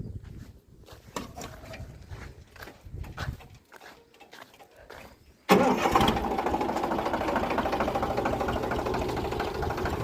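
A tractor sows sorghum in a field. After a stretch of quieter mixed outdoor noise, the engine starts abruptly and then runs loud and steady, close by, until the end.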